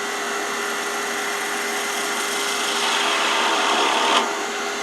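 A chisel cuts into spinning wood on a lathe while a chess pawn is turned, giving a steady close hiss that swells slightly and ends with a brief sharper scrape.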